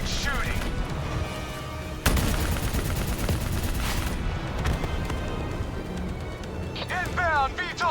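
Sustained gunfire and explosions fill a battle in the video game Call of Duty: Black Ops III, with dense automatic bursts and a heavy boom near the start. Voices shout over the din throughout.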